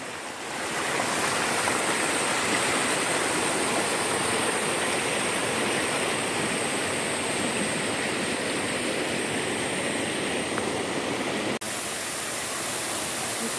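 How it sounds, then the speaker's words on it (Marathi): A small waterfall spills down a mountainside in a steady, full rushing roar. It sounds close and constant with no voices, and the tone shifts slightly near the end. "हा छोटासा एक वॉटरफॉल पडतोय"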